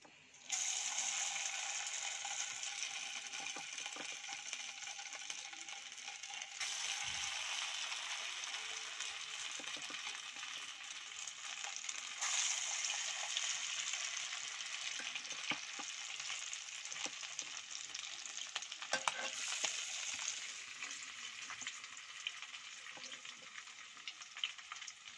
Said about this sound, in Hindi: एग्स को फ्राई कर लूंगी।